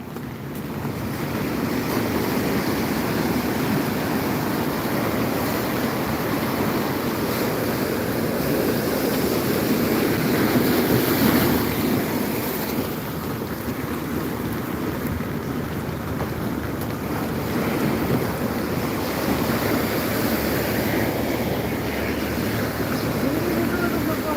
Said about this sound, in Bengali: দেখুন কি ঢেউ